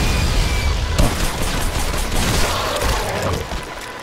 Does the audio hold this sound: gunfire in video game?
yes